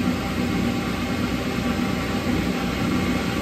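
An overhauled Triumph Spitfire single-rail transmission runs on a test rig with its overdrive engaged. It gives a steady, close mechanical drone with a constant whine and hum and no change in level. No one talks.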